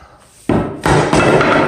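Hammer blows drive an oak dowel into a glued hole in an old baseboard during a house renovation, three sharp, loud close-up strikes in quick succession.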